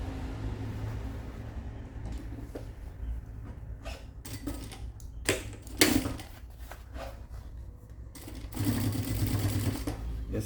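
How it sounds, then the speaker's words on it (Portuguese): Sewing machine stitching the crown panel of a backpack near a lining seam, running in short bursts of needle clatter with pauses, fairly quiet and close, with a longer steady run near the end. "Vou costurar para lá dessa costura um pouquinho"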